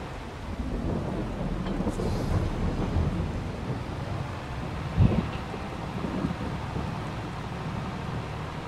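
Rain hisses steadily during a storm in a video game, with low rumbling thunder underneath and one brief louder crack near the middle.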